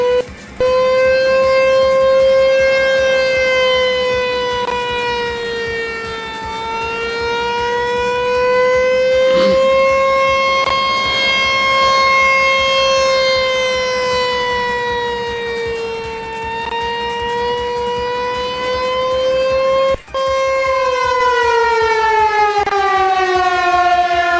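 A T128 civil defense siren winds up to a loud, steady wail. Its pitch rises and falls slowly in long sweeps, with a brief cut near the end before it rises again. Nothing else is heard with it.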